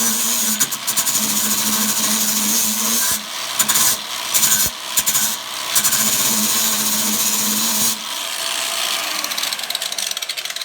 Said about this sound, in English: let's see what happens when we use a flap abrasive on it